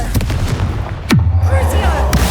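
Confringo fire blast spell cast in Hogwarts Legacy, a sharp whooshing burst with a booming impact over low rumbling game ambience, followed by a falling whistle and crackling afterglow.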